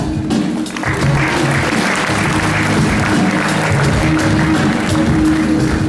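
Audience applause fills a beauty pageant award ceremony as a contestant walks up onto the stage, steady and loud, with music or hum underneath and no talk over it.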